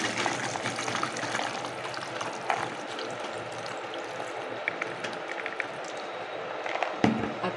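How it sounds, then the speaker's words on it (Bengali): Soaking water is strained off overnight-soaked peanuts and chickpeas, giving a steady, close, low-level trickling and sloshing with faint clinks from the container throughout. "এই যে জলটা, ভেজানো যে জলটা আমি কিন্তু ছেঁকে নেব"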